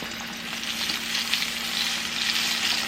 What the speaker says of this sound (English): And you're going to fry these until it's golden brown.